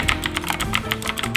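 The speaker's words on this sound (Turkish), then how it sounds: "Razer Black Widow Chroma klavyem var." Rapid, clicky keystrokes on a Razer BlackWidow Chroma mechanical keyboard, close and loud, with sharp irregular key presses filling the brief stretch alone.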